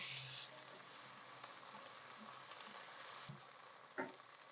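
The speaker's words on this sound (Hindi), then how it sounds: "फ्राई करेंगे इसको।" Onions fried to light golden with a spoonful of ginger-garlic paste, giving a steady, moderately loud sizzle alone, with a brief clatter near the end.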